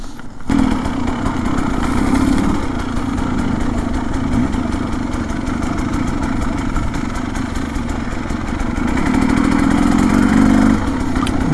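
Continuous loud buzzing of a HengJian Z300 Chinese two-stroke motorcycle engine, close and steady with slight rises in revs and constant wind rush while riding through rough ground near Chongzhou, China.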